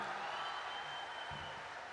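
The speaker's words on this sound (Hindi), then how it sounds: "बजाओ एक बार मिलके ताली साहब" Audience applause at a Hindi comedy poetry gathering, a steady dense wash of clapping that holds at an even level for the whole stretch with no voice over it.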